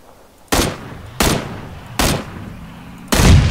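Four loud, close gunshots from the battle royale game PUBG, spaced unevenly less than a second apart, each sharp crack trailing off into a low rumble.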